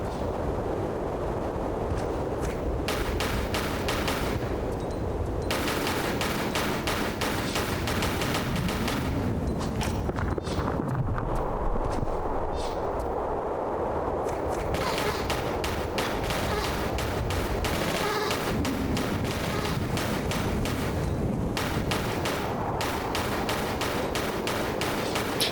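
Bullets ricochet off metal amid steady gunfire in Tomb Raider 4 Remastered, a dense, continuous barrage of shots with metallic pings running throughout.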